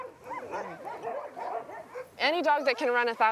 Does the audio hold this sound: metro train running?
no